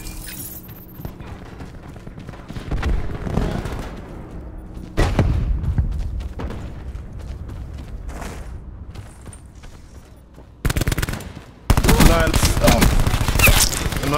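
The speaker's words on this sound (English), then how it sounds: "Annihilator shot them." Bursts of rapid Annihilator gunfire in Call of Duty: Black Ops 4 multiplayer, sharp shots with heavy thumps and mechanical clicks, some sections loud and dense, others sparser, with occasional voice in the background.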